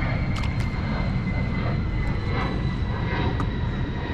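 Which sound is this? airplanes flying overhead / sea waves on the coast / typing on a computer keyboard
airplanes flying overhead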